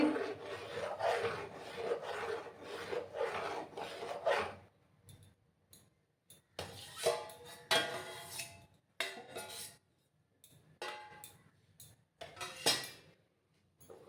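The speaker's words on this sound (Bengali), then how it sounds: "দিয়ে আমি ভালো করে নাড়াচাড়া করে নিচ্ছি।" Jaggery kheer stirred in a pot, heard as rasping, scraping strokes of a spoon against the pot in several bursts separated by short quiet pauses.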